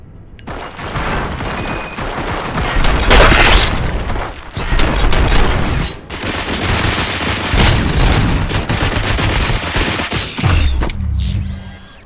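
Sustained heavy gunfire and booming blasts from a RoboCop: Rogue City shootout, loud and dense for most of the stretch with mechanical clanks, briefly easing near the middle and tapering off at the end.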